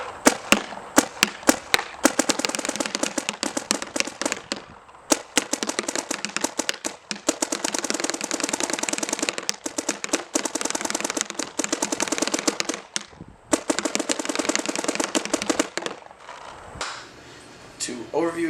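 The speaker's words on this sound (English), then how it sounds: "Today we're shooting the Lux X with some old Midnight paint board at 687." A DLX Luxe X paintball marker firing old Midnight paint in long, rapid strings of sharp pops, loud and close, broken by brief pauses between bursts.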